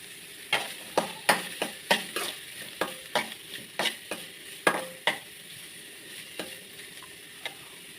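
Small onions sauté in a pan, a soft continuous sizzle punctuated by a dozen or so sharp, rhythmic clacks of a spoon stirring against the metal, heard close and alone with no voices.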